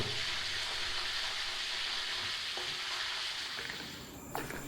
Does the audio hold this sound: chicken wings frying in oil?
yes